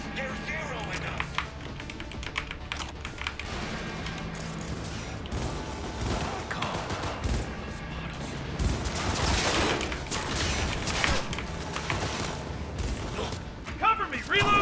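Rapid gunfire bursts from a firefight in the video game Cyberpunk 2077, dense and loud throughout, with mechanical clatter and voices shouting over the shooting.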